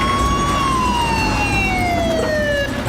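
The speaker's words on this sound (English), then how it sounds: "I heard sirens getting closer and closer." An emergency siren in a Roblox video game approaches, wailing in a slow falling sweep, fairly loud over a low rumble of traffic.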